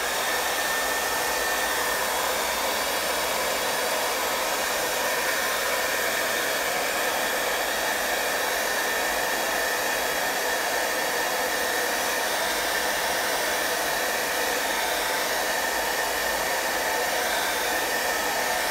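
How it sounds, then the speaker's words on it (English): A hair dryer runs steadily throughout, blowing over wet acrylic paint to dry it quickly; a constant, loud, close whooshing roar with no talk. "So I'm gonna use my hair dryer just to"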